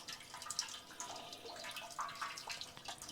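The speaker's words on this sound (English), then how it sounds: "So let's drain that out." Green coolant water draining and splashing from a 1969 Pontiac GTO engine, a faint, steady trickle with scattered drips and splashes running continuously throughout, with no voices.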